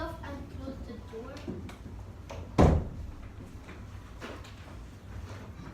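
A classroom door shuts with a single loud thud partway through, set against ongoing children's chatter and a teacher's voice.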